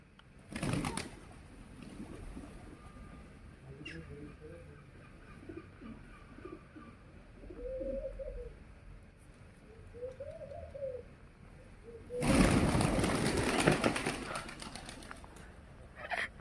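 Wild pigeons coo in soft, repeated rolling calls among a flock, with bursts of wing flapping and rustling at the start and a louder stretch of flapping later on.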